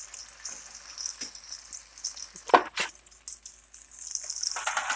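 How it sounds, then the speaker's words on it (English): Potato pancakes sizzle and crackle in hot oil, with scattered pops and a brief clatter midway, the frying growing louder toward the end. "So while those are frying"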